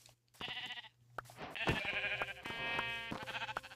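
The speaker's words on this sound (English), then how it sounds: "I managed to find some sheep" Sheep in the video game Minecraft bleat several times in a row, wavering baa calls that are clear and fairly close, with short quiet gaps between them.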